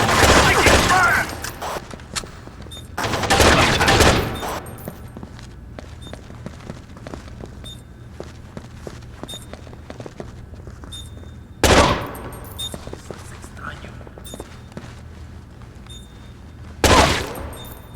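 Rainbow Six 3 gunfire on Xbox: several loud, sharp bursts of automatic fire break out at separate moments, with a quieter stretch of faint clicks, steps and background noise between them.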